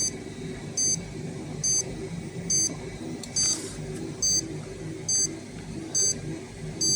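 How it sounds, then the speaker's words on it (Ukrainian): A Geiger counter dosimeter, exposed to a reading near 101 microsieverts per hour, sounds its alarm as a series of sharp high electronic beep bursts, roughly one per second, clear and close over a low background hum. "О, включилась сигналка."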